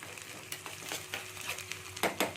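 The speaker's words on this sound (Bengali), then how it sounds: "কাঁচা লঙ্কা যে আমি থেতো করে রেখেছিলাম সেটা আমি দিয়ে দিলাম এক চামচের মতো দিয়ে এটাকে আমি একটু নাড়তে থাকবো যাতে এটা একটু ভাজা হয়ে যায়" Crushed green chili frying in a pan while being stirred with a spoon, a soft continuous sizzle broken by sharp scraping strokes of the spoon against the metal, closer and louder near the end.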